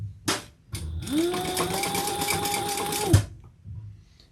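A sewing machine stitches seams on a fabric bag, making a close, steady whirring hum that runs for about two seconds and then stops with a clunk, with brief handling noises before and after.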